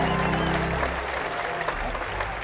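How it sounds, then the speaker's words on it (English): At a baseball game, the crowd applauds ahead of the ceremonial first pitch, a broad spread of distant clapping under a low hum and brief voices. "Crowd, as you can probably hear, gives him a round of applause"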